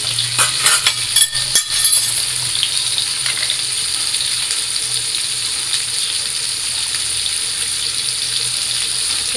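Potatoes frying in a pan with a little turmeric: a strong, continuous sizzle with a few clinks and bubbly crackles near the start, then an even hiss, no talking.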